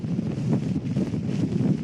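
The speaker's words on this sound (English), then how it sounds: "the wind gusts have picked up dramatically" Strong hurricane wind gusts roar in Lake Charles, a dense, constant rumbling buffet against the microphone with no pauses.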